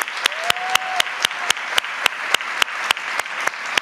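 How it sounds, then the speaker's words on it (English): Audience applause at an anniversary event, a soft wash of clapping punctuated by sharp, evenly spaced claps in a steady rhythm throughout. "I think that deserves a round of applause and thanks."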